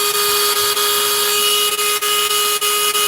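A power drill whines steadily at a high, constant pitch, boring a pilot hole through a crinoid fossil continuously with small dips in load throughout.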